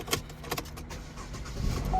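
A used car starts up at a public car auction, with a brief crank and the engine catching and rumbling low and close, alongside clicks and rustling near the vehicle.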